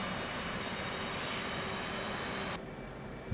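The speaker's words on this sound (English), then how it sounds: "we're spooling the left engine up" The left jet engine of an F/A-18 Hornet spooling up in the DCS flight simulator: a steady, loud broadband roar that cuts off abruptly near the end, followed by a short thump.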